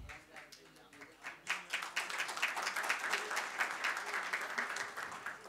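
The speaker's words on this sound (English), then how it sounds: "A generous round of applause, please." Audience applause at a data science summit, a steady crowd of clapping hands swelling after a soft start and sustained at moderate loudness, with some speech-like murmur mixed in.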